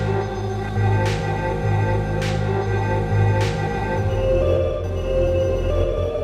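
A pitched-down sample chopped up in Beatmaker 3 on an iPad, a steady dense musical loop with low bass tones and three sharp chopped transients roughly a second apart, playing alone without talk.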